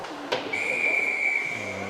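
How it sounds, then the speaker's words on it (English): A referee's whistle at an ice hockey game gives one sustained, clear shrill blast lasting about a second over the murmur of the rink, a sharp stick knock just before it. "A whistle on the play."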